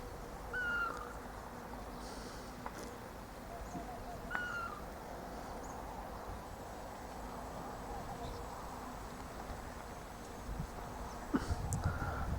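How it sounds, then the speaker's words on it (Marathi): A few faint, brief bird calls ring out at intervals over a low outdoor background at a waterside in the early morning, with a soft murmur of distant voices. "हा पक्षी गिदाड नावानं ओळखला जातो"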